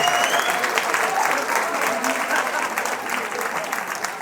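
Audience applause at a student eloquence contest, continuous full clapping from a hall crowd that stays even and loud for a few seconds.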